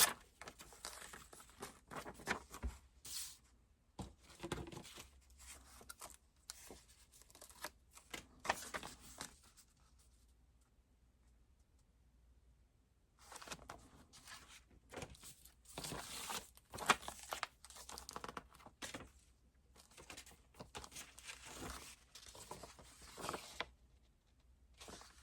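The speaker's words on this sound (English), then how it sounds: "I'm just going to tear it." Stiff paper pages ripped by hand from a pad, several tearing bursts with crisp crackling separated by quiet pauses, close and moderately loud.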